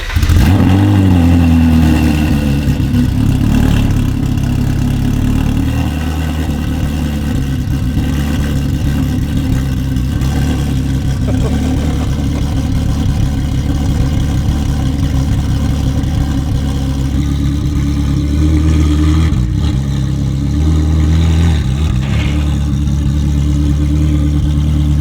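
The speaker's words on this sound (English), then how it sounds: "So it's the Klein Inconel full exhaust on the Ferrari 458." A Ferrari 458 fitted with a gold ceramic-coated Kline Inconel full valved exhaust sounds out loud and close, a sustained deep engine roar with rising and falling revs and a sharp blip near the end.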